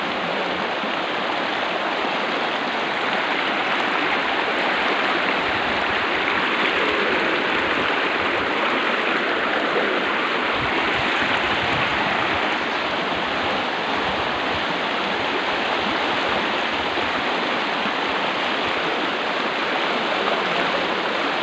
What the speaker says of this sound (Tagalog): Medyo malakas ang agos ng ilog.